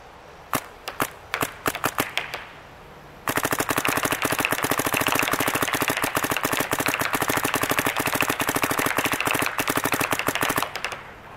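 A Dye DSR paintball marker fires in semi-automatic mode: a few scattered single shots, then a long, steady burst of rapid, sharp cracks that runs for several seconds before stopping abruptly. It is loud and close.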